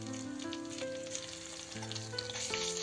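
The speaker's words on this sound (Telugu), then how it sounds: "నెక్స్ట్ మనం కట్ చేసి పెట్టుకున్న ఉల్లిపాయలు అండ్ కరివేపాకు. ఇందులోనే ఒక 1/2 టేబుల్ స్పూన్ అల్లం వెల్లిగడ్డ పేస్ట్ వేస్తున్నాను." Sliced onions, curry leaves and ginger-garlic paste sizzling in hot oil in a pan for a spicy curry, a steady close frying crackle with faint tonal background music and no talk.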